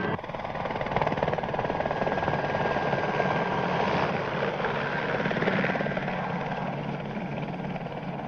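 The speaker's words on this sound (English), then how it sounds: "That chopper must have come from the direction of their base." A helicopter flies overhead in a 1960s spy TV drama, its rotor a steady, loud, continuous chopping roar that holds throughout without talking.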